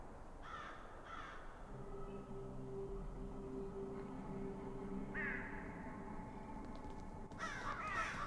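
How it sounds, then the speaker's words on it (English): Crows caw in the horror video game Saint Kotar: a few harsh calls spread across the stretch, mostly faint to moderate, over a low droning ambience, with no voices. "Crows are not what they seem to be."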